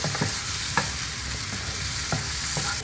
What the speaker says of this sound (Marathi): कांदा चांगला परतून घ्यायचा आहे चांगला खरपूस भाजला आहे त्यामध्ये मी टॉमॅटो पण परतवून घेते